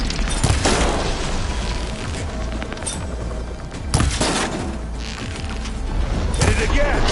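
Heavy weapon fire in the video game Horizon Forbidden West, with loud, dense booms and explosive bursts recurring every second or two over a continuous roar of game noise and mechanical clatter.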